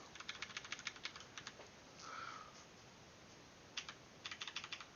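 Fingers typing on a computer keyboard in quick clattering bursts, separated by a pause with a brief sniff, quiet and close.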